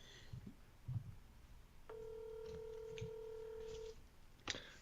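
An outgoing telephone call ringing out unanswered, a single steady electronic ring tone lasting about two seconds, faint and alone, with scattered quiet knocks and clicks around it.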